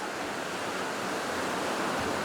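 Ocean waves at a city beach wash in as a steady, broadband surf roar, moderately loud and continuous, with no voices.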